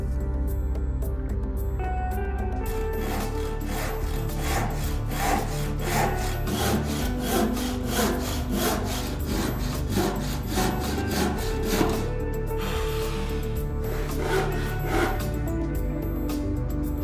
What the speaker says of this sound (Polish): Tak się w dębinie zachowuje dobrze naostrzone dłuto. Nawet tak tanie jak Irwin.